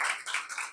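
Applause from an audience at a gossip-corner stage programme, a short burst of steady clapping that rises and dips slightly with no voices over it.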